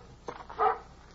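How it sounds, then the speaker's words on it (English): A dog barks excitedly: one loud, sharp bark stands out after a fainter yip, heard at moderate distance over a low background hum, with no voices. "That's Bullet's bark, and he's mighty excited"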